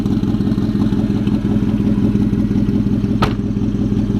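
Porsche Panamera Turbo with side exhaust, its engine settling after a cold start: a close, steady low rumbling idle with a faint whirring overtone and one brief thud near the end.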